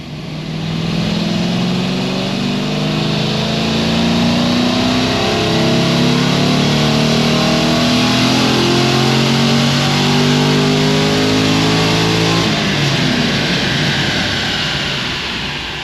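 A Pontiac GTO with an LS2 V8 and heads-cam upgrade is revved hard on a dyno, the engine note climbing smoothly and loudly in one long sustained pull before cutting off near the end.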